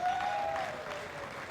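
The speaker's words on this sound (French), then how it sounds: "Applaudissez pour lui," Audience applause at a closing ceremony honouring women actors of a popular theatre troupe, dense steady clapping from a crowd heard briefly with a high whistle at the start.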